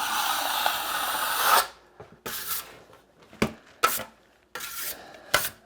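A drywall knife spreads and feathers joint compound across a bowed wall, giving a long scraping drag followed by several short rasping strokes separated by brief silences, close and fairly quiet.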